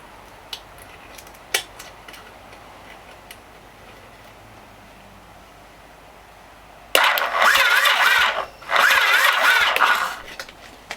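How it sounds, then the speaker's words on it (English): A Yamaha XS850 motorcycle engine is cranked over slowly in two loud, close churning bursts with a short gap between them, after a quiet stretch of scattered ticks. "let's try to turn the bike over slow as it is and see how it sounds"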